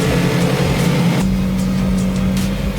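A Ford Focus Mk1 engine idles steadily after a fuel filter replacement, a close, even mechanical hum holding a constant low drone for the whole stretch without revving.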